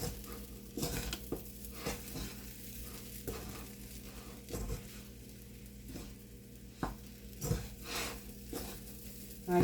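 A spoon stirs a dry spice mix of turmeric, red chili powder, coriander-cumin powder and garam masala in a pan for kachori filling, giving faint scraping with occasional clinks and a few sharper taps.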